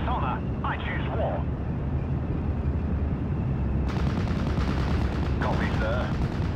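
Artillery shells fire in a Steel Division Normandy 44 battle, a constant rumbling barrage with heavy booms layered under background music and brief voices.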